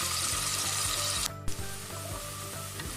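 Chopped onions sizzle loudly and steadily in a hot pan, with a spatula knock and brief scrape near the middle as they are stirred; no one talks.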